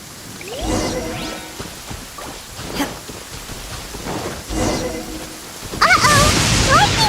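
Rain and thunder from a lightning storm in the video game Genshin Impact, with steady rainfall, a couple of rumbling swells and a sharper burst near the end, mixed with game whooshes.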